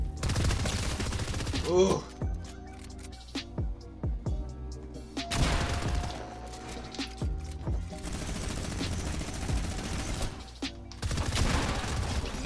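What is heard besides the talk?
rapid fire SMG gunfire in Fortnite video game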